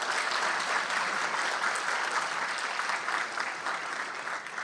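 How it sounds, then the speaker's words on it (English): A hall audience at a youth parliament debating contest gives a sustained round of applause, an even, steady roar of many hands clapping that fades slightly toward the end. "Let's give everyone a round of applause."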